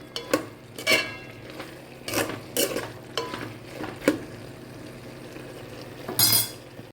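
A spoon stirs vegetables frying with ginger garlic paste and chili powder for sambar, giving repeated scraping strokes and clinks against the pan over a steady sizzle, with no talking.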